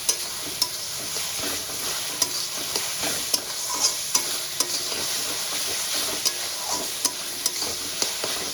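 Ginger-garlic masala is sautéed in a pan, a constant close sizzle punctuated by regular sharp taps and scrapes of a spatula stirring roughly every half second.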